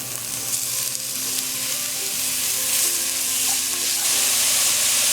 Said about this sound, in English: And now we're going to add our minced beef.